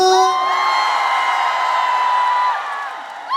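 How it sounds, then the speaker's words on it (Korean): An audience cheers at an outdoor park concert in Bundang Central Park, Seongnam: a sustained crowd roar with high whoops and shouts on top, loud at first and then fading slightly. "다 같이 함성."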